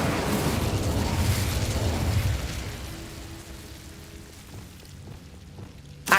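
Incendio fire spell cast in the Hogwarts Legacy video game: a loud, dense roaring burst of flame that crackles and hisses for a couple of seconds, then fades into a softer rushing tail.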